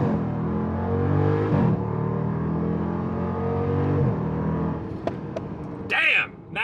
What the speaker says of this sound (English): Let's go track mode, launch control, brake on. Good, apply full brake.